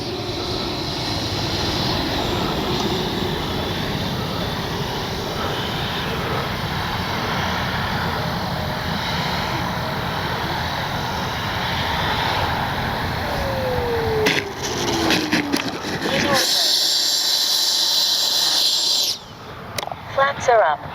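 An FMS Avanti S 90mm EDF radio-controlled jet flies overhead, its loud, steady ducted-fan whoosh and whine filling the air outdoors before fading and briefly cutting out near the end.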